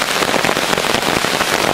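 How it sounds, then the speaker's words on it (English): Steady, dense rain pattering on a surface, constant and fairly loud with no voices. "Look at the mist of rain in the distance."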